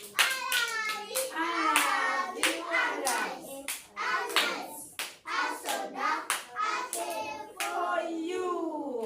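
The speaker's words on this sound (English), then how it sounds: "Can you clap them?" Children in a classroom clap their hands in quick, fairly steady bursts, loud and close, with short pauses between the rounds of clapping.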